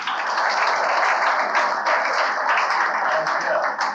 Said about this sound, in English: let's give Liam a round of applause, everyone.